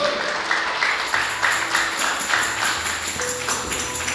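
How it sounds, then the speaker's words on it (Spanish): A church congregation claps loudly for Jesus Christ during an evangelistic service. The applause is dense and steady, with rhythmic accents and sustained musical tones underneath. "Denle fuertes palmas al Señor Jesucristo."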